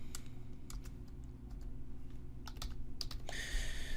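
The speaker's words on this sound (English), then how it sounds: "It's hard to get to my keyboard." Typing on a computer keyboard, a run of quick irregular key clicks close up, with a denser burst of clatter at the end.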